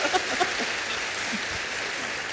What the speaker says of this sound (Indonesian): Kalau gitu kita tepuk tangan untuk rektornya.